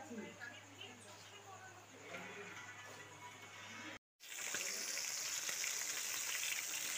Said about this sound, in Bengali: তো আমার মাছ ভাজি হয়ে যাচ্ছে, মাছ কড়াইতে বসাই দিচ্ছি।